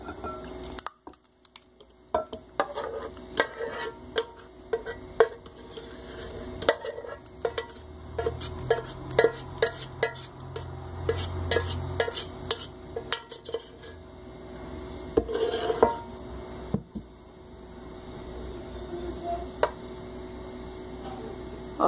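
Pineapple pie cream is stirred in a bowl, with a utensil clinking and scraping against the dish in irregular taps and a soft wet squish, close and moderately quiet over a faint background hum.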